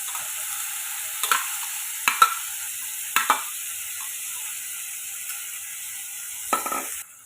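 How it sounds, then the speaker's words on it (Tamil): Masala-coated soya chunks sauté for soya biryani with a thin, steady sizzle, punctuated by a few sharp scrapes and taps of a spatula against the vessel. "இதை இப்போ நல்லா ஒரு 2 நிமிஷம் வதக்கி விட்டு எடுத்துக்கோங்க."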